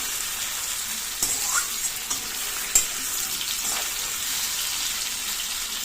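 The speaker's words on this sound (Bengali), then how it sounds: "এটা একটুখানি ভাজা হয়েই এসছে, এবারে আর কি জল দিয়ে দেবো" Cut pumpkin and okra frying in a pan for a vegetable dish, a steady close hiss of sizzling oil with a few sharp spatula knocks and stirring scrapes.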